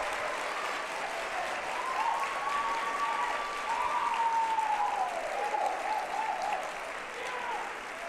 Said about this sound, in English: I want you to give a big ass round of applause.